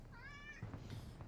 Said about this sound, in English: the kitty cat